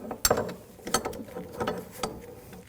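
A wrench works on the wiper transmission of a 2006-2009 Audi S4, giving a few quiet, close metallic clicks spaced about a second apart.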